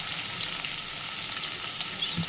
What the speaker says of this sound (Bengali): এবার পেঁয়াজটাকে না একদম হালকা করে ভাজতে হবে, মানে নরম হওয়া পর্যন্ত।